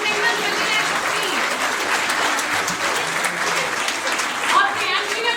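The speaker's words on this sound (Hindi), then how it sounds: "प्लीज तालियों से स्वागत करिए ना, बहुत मेहनत लगी है सबकी" An audience at an International Women's Day event claps in sustained, dense applause, loud and close, with no talk heard.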